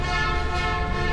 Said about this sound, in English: That was some kind of a train car.